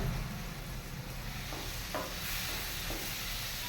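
Chicken liver frying in a pan, a faint continuous sizzle and hiss with a few soft stirring scrapes from a utensil, no voices.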